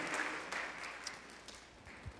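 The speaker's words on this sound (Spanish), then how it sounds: "Denle un fuerte aplauso al Señor" A church congregation claps during a Spanish-language service, a faint, diffuse spatter of hand claps spread through the room, with a few sharper claps standing out.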